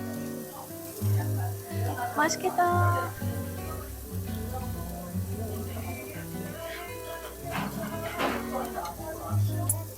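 Mushrooms and pork belly sizzle steadily on a grill in a busy Korean restaurant, with a few clinks and a brief spoken remark.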